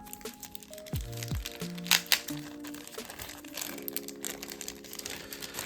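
A small paper envelope from a mail parcel is torn open and handled, giving crinkling, rustling paper and a few sharp rips at close range, with no talking.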